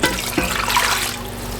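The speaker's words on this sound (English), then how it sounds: "now we're going to go in with 3 cups of water" Water pours into a pot of homemade spaghetti sauce, a loud, steady splashing rush that carries on without pause from start to finish, with no talking.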